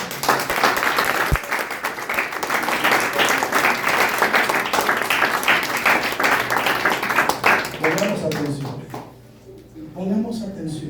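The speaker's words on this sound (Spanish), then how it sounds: "Dale un fuerte aplauso al Señor." Congregation in a church applauding, sustained dense clapping that fades out near the end, with voices talking and calling over it.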